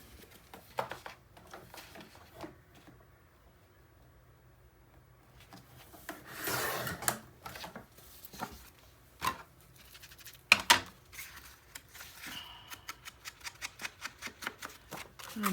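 Cardstock panels for a mini album are trimmed with soft rubbing and scraping, occasional sharp clicks, and a closing run of quick regular ticks, quiet and close with no talk.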